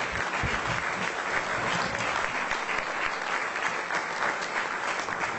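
Dense, sustained applause from an awards-ceremony audience greeting a politician called on stage, a steady wash of many hands clapping at full volume throughout with no pauses.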